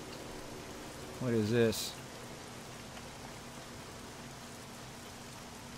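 Steady, even hiss of rain falling in a video game fills the scene throughout, with someone briefly speaking partway through.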